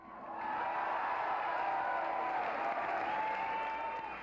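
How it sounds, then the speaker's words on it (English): A crowd applauds and cheers, a sustained, dense wash of clapping that swells in quickly and holds steady at a moderate distance. "there is only one way to make the crowds cheer"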